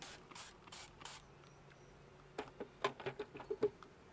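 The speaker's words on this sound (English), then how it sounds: "I just spray them with 1:1 sugar syrup." Several short spritzes from a spray bottle spraying sugar syrup on bees, a few at first, then a quick cluster of clicky pumps with faint buzzing underneath.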